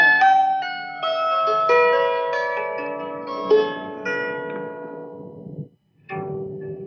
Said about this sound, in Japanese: こういう弦の音っていうのもね、